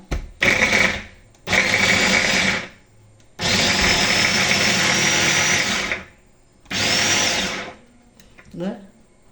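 An electric mixer grinder whirs loudly as it grinds curry paste, running in four separate bursts of a few seconds each with brief silent pauses between them.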